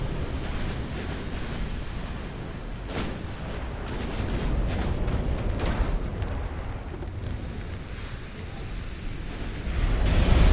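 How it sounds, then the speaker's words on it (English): Ammunition detonation on a warship in the naval battle game Ultimate Admiral: Dreadnoughts, a dense, continuous rumbling roar of blasts and booms that swells louder toward the end, with no speech. "Oh, got another ammo detonation."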